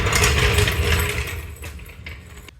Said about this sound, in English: All right, I'm torquing these down, but this torque wrench doesn't go that low.